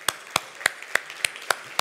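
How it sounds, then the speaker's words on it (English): A single person clapping slowly at a business presentation, about seven distinct, evenly spaced claps, close and sharp, with quiet room noise between them. "I really wanted to take, like, a few seconds to applaud Zia and applaud all our presenters"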